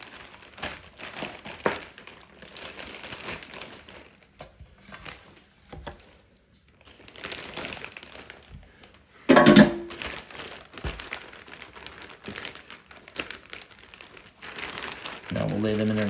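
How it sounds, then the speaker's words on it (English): A Ziploc plastic bag crinkles softly in a kitchen as seasoned bacon bellies are placed inside, with light rustling and one sharper crackle, mostly under a person talking. "We will take a Ziploc bag and go ahead and place your bellies into that."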